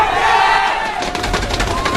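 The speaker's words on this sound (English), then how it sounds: "Crowd goes wild" Live esports arena crowd roaring during a StarCraft II match, with a dense, loud swell of cheering and shouting that fills the whole two seconds; rhythmic claps and bursts build in the second half.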